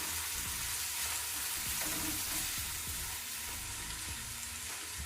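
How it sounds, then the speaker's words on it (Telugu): Vegetables for a restaurant-style kadai veg fry in a pan with two dried red chilies, a loud, dense, continuous sizzle with some low bubbling crackle underneath, close and steady throughout. "ఇందులో ఒక 2 ఎండుమిర్చి కూడా వేసుకొని ఒక 5 మినిట్స్ మనం వీటిని వేయించుకోవాలి."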